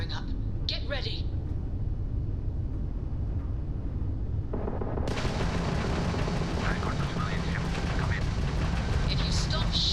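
Starship weapons firing during a Starfield space battle, dense booming blasts in a steady wall of loud rumbling noise that grows harsher and brighter halfway through.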